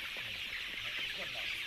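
A free-range flock of one-month-old Lạc Thủy specialty chickens in Thanh Hóa, Vietnam, clucking softly and continuously under a steady background hiss, with no one talking.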